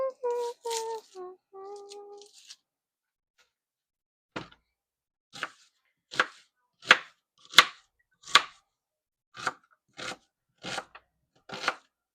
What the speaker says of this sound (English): And then we're going to dice up an onion and put in there